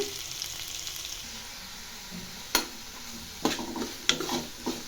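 Steady sizzling of chopped onions frying in a pan, with a few sharp scrapes and clinks of stirring toward the end.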